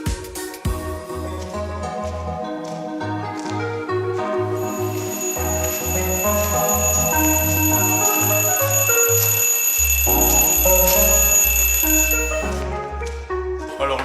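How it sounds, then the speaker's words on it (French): A morning alarm clock ringing, a bright, repeating melodic chime pattern that plays loudly and steadily for around fourteen seconds, with no voices over it. "Je me réveille toujours à la première alarme"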